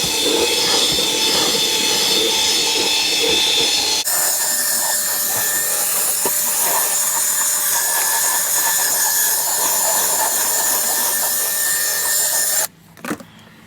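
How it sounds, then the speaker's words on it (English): A drill-driven brush scrubs the neglected interior of a classic Corvette with a continuous rough, buzzing rub that shifts tone partway through and cuts off abruptly near the end, with no talking. "Just drill brush, bro."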